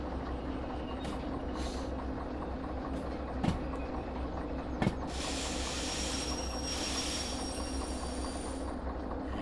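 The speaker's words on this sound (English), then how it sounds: "And boom, the train has come to a stop." Locomotive train in the video game Derail Valley braking to a stop, with a steady rolling rumble, a couple of sharp clanks, and a hissing brake release near the end, at moderate loudness.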